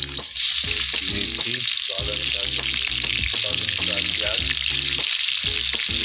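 Loud, continuous sizzling of onion frying in hot oil, with scraping stirs breaking through the crackle.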